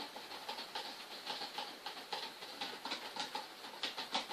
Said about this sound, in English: Alright, we're going to stir all this together.